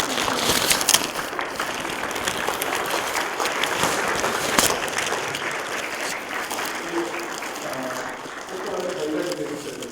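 A colloquium audience at Seoul National University gives a long ovation to a retiring materials science professor, dense clapping that swells early, then thins and fades as voices begin murmuring underneath.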